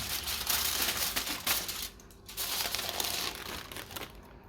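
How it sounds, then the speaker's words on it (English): Slow-cooked meat, roasted about two hours, being unwrapped from its covering: steady close crinkling and crumpling of wrap, with a short quieter pause midway before the rustling resumes. "I'm just unwrapping it"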